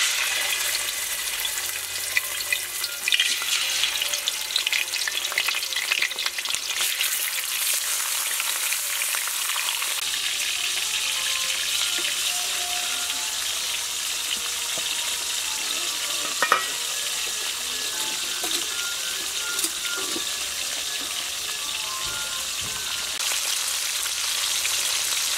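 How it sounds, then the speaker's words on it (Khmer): Fish frying in hot oil in a pan, a steady dense crackling sizzle with sharper spits and pops, continuous and close throughout, with no voices. "ខ្ញុំដាក់ខ្លាញ់ឲ្យក្តៅសិន នេះឥឡូវនឹងខ្លាញ់មកយើងក្តៅហើយខ្ញុំចាប់ផ្ដើមដាក់ចៀនត្រី"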